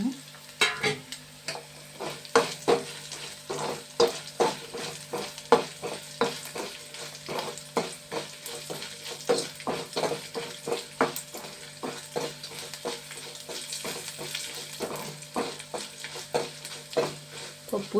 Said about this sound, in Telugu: పోపు వేసుకున్నాను.